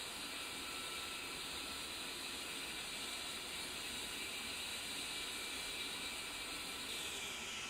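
Two aircraft engines run steadily in a flight simulator, a continuous loud broadband roar with a high whining hiss, unbroken and without talk.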